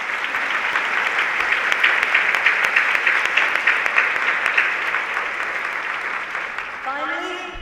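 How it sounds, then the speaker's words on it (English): An audience at an opening session breaks into sustained applause, a dense, even clatter of many hands clapping that carries on steadily. A voice starts speaking just as it ends. "Colleagues, please join me in a warm round of appreciation applause for all of these sponsors and partners."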